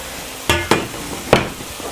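A covered pan of tomatoes and peppers simmers for shakshuka, a soft steady sizzle with a few sharp clanks of a utensil or lid against the pan, close up and with no voices.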